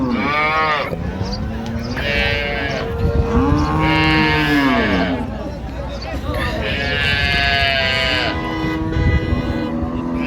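Dairy cows and calves of improved breeds low repeatedly at the Raniganj cattle market in Dinajpur, several long drawn moos from nearby animals overlapping one another, with a voice talking in between against market background noise.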